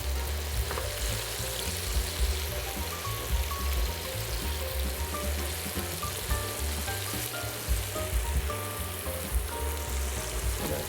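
Asparagus cooking on a stovetop griddle gives a steady, moderately loud sizzle and crackle with a low rumbling bed that runs unbroken throughout, with no one talking.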